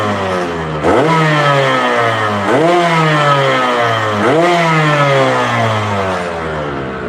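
A motorcycle with a standard exhaust is blipped three times, each throttle stab rising sharply then sliding back to a loud, steady idle between revs.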